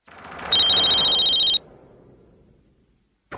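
A telephone rings in one steady, loud electronic burst lasting about a second, followed by a fading tail and the start of a second ring.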